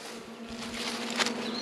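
Honey bees hum in a steady, even drone around a heavy frame lifted from a newly installed hive, close and moderately quiet, with a brief brighter swell of wingbeats near the end and no talk.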